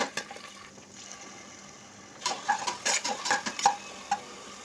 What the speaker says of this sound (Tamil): எல்லாம் போட்டு வதக்குவோம்.